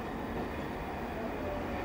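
A Buenos Aires subway train rumbling steadily with a broad low roar, continuous and fairly loud throughout, no voices.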